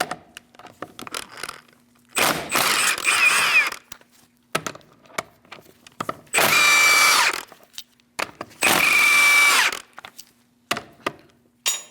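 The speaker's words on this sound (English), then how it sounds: "Using a 17mm socket, we're going to remove our wheel." A power impact tool with a 17mm socket removes the rear wheel lug nuts on a 2000-2006 Mini Cooper: three loud, close whirring bursts of a second or two each, separated by quieter clicks and handling sounds.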